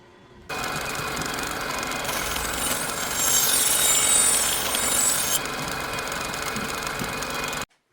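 Vintage butcher knife blades are pressed against a belt grinder running conditioning belts, a steady abrasive whir with a harsher rasping stretch in the middle as the steel is smoothed, starting and stopping abruptly.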